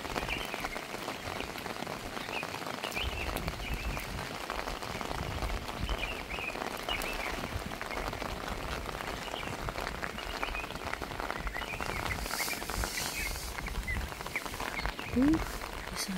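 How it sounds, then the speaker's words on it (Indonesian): Steady rain pours down at a camping ground in Karangasem, Bali, a dense, even hiss of drops hitting surfaces that carries on throughout with no break. "sampai Denpasar semuanya hujan"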